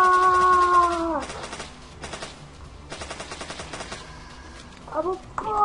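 Rapid SMG gunfire crackles in dense bursts in the zombie video game Zombocalypse 2, alongside game music tones and effects, with no talking.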